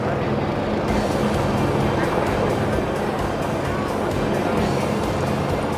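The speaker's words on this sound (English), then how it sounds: "So you can hear overhead the helicopters." A constant loud whirring roar with a faint rhythmic chop runs throughout as helicopters pass overhead at the 2021 Valencia Marathon.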